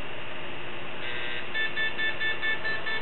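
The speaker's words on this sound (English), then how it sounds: "And we get a PETN alarm" A Quantum Sniffer QS-H150 portable explosives detector sounds its PETN alarm after sampling a vehicle door handle: a faint hum, then a string of about six evenly spaced electronic beeps, close and clear, with no talk.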